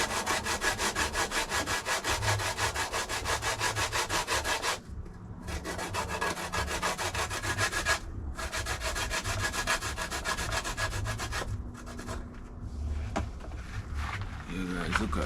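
Raw beetroot rubbed against a hand grater in quick, regular rasping strokes, loud and close, with a few short pauses between bursts.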